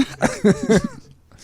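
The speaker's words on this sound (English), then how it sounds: "I cough." A short burst of a few quick, harsh coughs close to the microphone, trailing off into quiet.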